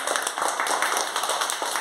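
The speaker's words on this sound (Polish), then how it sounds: "Wielkie brawa dla Madzi." A small group claps for Madzia, a child who has just presented a rabbit lapbook: a short burst of brisk, close, uneven hand claps with no cheering.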